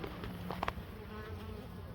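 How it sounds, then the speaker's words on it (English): Bees and a yellow jacket buzz at a beehive, a dense close hum of wings with a few sharper passes darting near, steady for the whole moment with no talking. "Is that a yellow jacket? Yeah, it's a yellow jacket taking a bee in."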